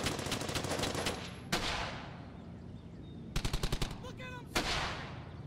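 Rapid automatic gunfire in Brothers in Arms: Hell's Highway, loud bursts of machine-gun rattle broken by short pauses, with sharp single shots and a trailing echo of the battle.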